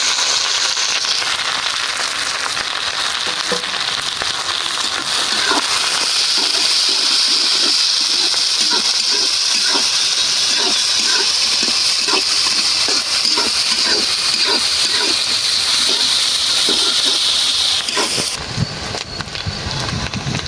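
Sliced onions and green chilies sizzle loudly in hot oil, a steady close hiss dotted with rapid crackles and pops that runs for most of the stretch before cutting off near the end.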